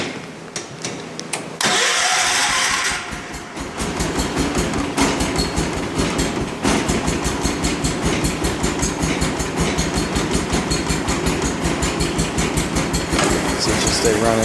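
An IH Cub Cadet 1250 garden tractor cranks over and fires, then settles into a loud, steady, rapidly pulsing idle heard close up, with a person talking over the engine.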